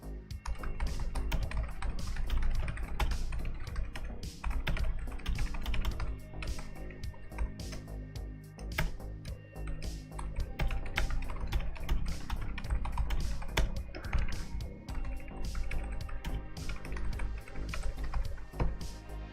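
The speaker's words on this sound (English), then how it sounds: "Oh, if I could type." Continuous fast typing on a computer keyboard, a steady close-up clatter of keystrokes running for nearly twenty seconds without pause or speech.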